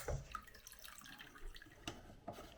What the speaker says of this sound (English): see how much water we can get through the hot and cold lines of this faucet